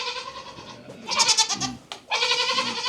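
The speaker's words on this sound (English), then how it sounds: "I hear some baby goats." Baby goats bleating on a farm, several loud, close, wavering cries in quick succession with a short gap between bursts, no talking.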